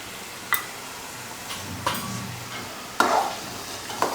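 Spices being stirred into a chickpea curry (chole), with sparse spoon scrapes and taps against the pot over a low simmer, a few distinct strokes spread out and fairly quiet.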